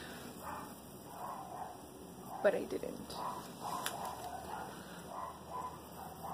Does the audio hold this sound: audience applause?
no